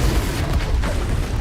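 A Confringo fire spell explodes in Hogwarts Legacy as a dense, close, loud boom that fills the whole short moment.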